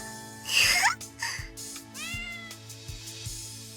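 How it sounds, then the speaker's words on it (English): Cat meowing in the Amaterasu Riddle Star video game: a loud, drawn-out meow followed by shorter, softer mews, set over soft, steady background music with low rhythmic thumps. "The cat began to lick Kokoro's hand as though it wanted to be spoiled by her"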